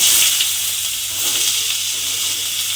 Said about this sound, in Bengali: সেই আলুগুলো আমি তেলের মধ্যে দিয়ে দেব